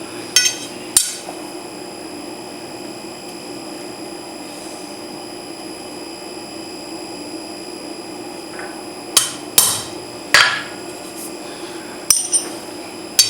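A hammer strikes a center punch into steel while forging a bottle opener, sharp metallic clinks, a pair early on then a cluster of several blows near the end, close and ringing over a steady background hum.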